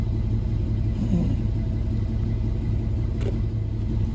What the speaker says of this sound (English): And you just left that truck running?